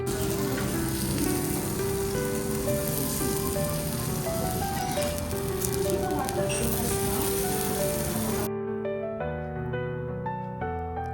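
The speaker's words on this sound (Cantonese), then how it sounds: "每人有個獨立石爐，可以自己動手燒，想食幾熟就燒幾耐。" A medium-rare beef cutlet in thin crisp breading sizzles on an individual stone grill at a restaurant, giving a loud, steady, crackling hiss with clattering and faint voices in the background.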